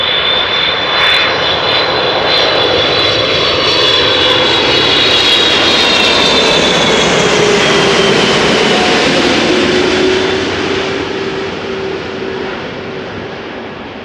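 A KLM Boeing 777-300ER with GE90 engines, arriving from Curaçao at Amsterdam Schiphol, passes close by with a loud, powerful roar and a high turbine whine. The sound swells and then gradually fades as the jet moves away.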